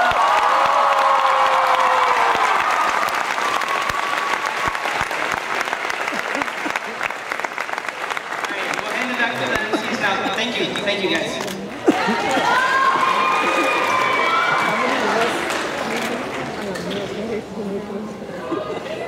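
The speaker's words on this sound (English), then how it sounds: "Can we please give them a huge round of applause?" A large audience at a dance show applauds loudly and cheers, a thick wash of clapping with shouts and chatter running through it for nearly twenty seconds, tapering off at the close.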